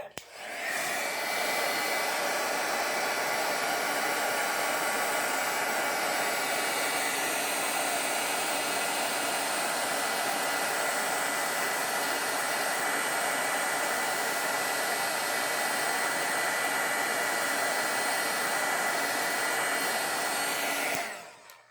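A heat tool blows steadily on stamped cardstock to melt embossing powder, a loud, even whooshing roar that runs nearly unbroken for about twenty seconds, then cuts off.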